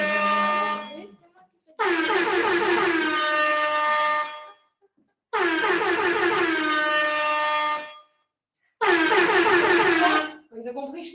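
A loud air horn blasts four times in long sustained bursts with short gaps between them, sounding during a live fashion sale broadcast.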